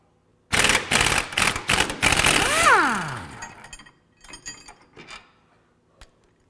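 During a truck lift kit install, a power tool unbolts the shock absorbers with a loud, close, rattling burst that winds down in pitch, then a few shorter mechanical buzzes and a final click.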